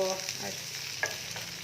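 Onion, capsicum and peas frying in a little oil for kadai paneer: a quiet, brief sizzle with a couple of soft stirring scrapes, heard alone.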